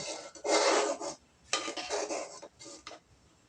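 Grated coconut being stirred into a sago and palm-fruit mixture: a spoon rasps and scrapes against the pot in a few bursts, with short pauses between strokes.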